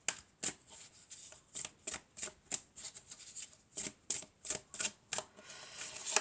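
Tarot cards are shuffled in rapid, crisp riffling bursts, a dozen or so sharp snaps in an irregular rhythm, close and clear with no talking.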